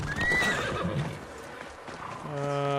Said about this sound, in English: Alright, horse, I'm gonna have to abandon you here.